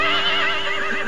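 A horse whinnies loudly and close, a continuous wavering neigh filling the whole moment, used as a sound effect in a 1987 Chevrolet Sprint television advertisement.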